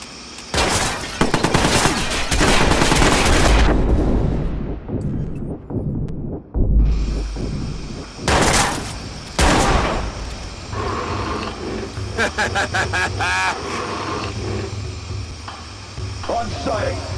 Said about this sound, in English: I've got shots fired at my location!